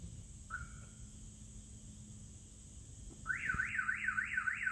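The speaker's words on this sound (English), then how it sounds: "any motion that happens underneath that vehicle is going to set that alarm off" A catalytic converter proximity alarm, triggered by motion under the vehicle, bursts into a rapid warbling siren after a brief chirp, loud and continuous, rising and falling quickly over a low background hum.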